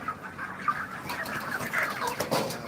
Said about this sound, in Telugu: ఏయ్ ఇది పెట్ట